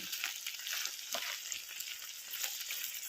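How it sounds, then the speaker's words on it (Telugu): Okra pieces, green chillies, a bit of ginger, curry leaves and mint frying in a pan, a steady close crackling sizzle with occasional stirring, no talk. "బెండకాయ ముక్కలు పచ్చిమిరపకాయలు కొంచెం అల్లం ముక్క కరివేపాకు పుదీనా వేసి వేయించుకున్నాను"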